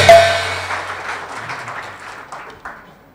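Audience applause at a stage performance, strongest at the start and then thinning and fading over a few seconds into a softer patter.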